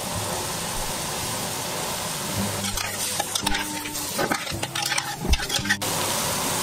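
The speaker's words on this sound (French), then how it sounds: "je vais ajouter ail et oignon. Je vais mélanger. Je vais singer avec la farine." Garlic, onion and flour are stirred in a hot pan, giving a soft sizzle with a busy stretch of scraping and spoon clatter in the middle before it settles back to a steady fry.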